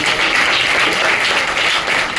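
A church congregation claps together during an evening festival service, a steady, dense wash of applause filling the whole moment without a break.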